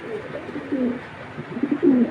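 A large blue racing pigeon of a Mili blood line coos in low, throaty rolls, with a short call early on and a fuller burst near the end, heard close against quiet background noise.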